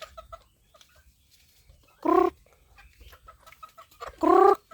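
Chickens cluck in short bursts, with two loud, harmonic fowl calls close by standing out over quieter clucking and rustling in between.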